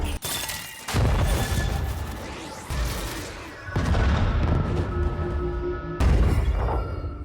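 Animated bomb blast in Arcane, heavy booming bursts with dense rumbling debris, several loud impacts spaced a few seconds apart amid chaotic battle noise.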